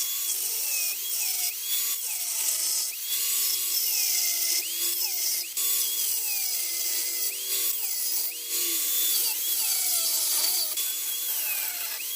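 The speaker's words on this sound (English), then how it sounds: "See how precise we can be with the cutoff wheel." A cutoff wheel grinds into a mower pulley, giving a steady, close, shrill whine that bends up and down in pitch as the cut proceeds, with no talk over it.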